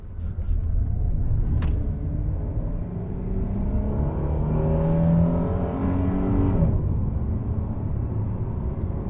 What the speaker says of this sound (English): it's a rough old engine, but it's a punchy one